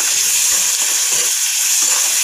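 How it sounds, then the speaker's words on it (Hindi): Chopped tomatoes frying in a pan for masala Maggi noodles, a loud, dense, continuous sizzle with faint stirring movement beneath, close and uninterrupted by talk. "अब हमने जो टमाटर काटा था उसको इसमें डालते हैं और थोड़ा सा उसको इसके साथ भूनते हैं"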